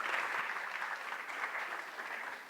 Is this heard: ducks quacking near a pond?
no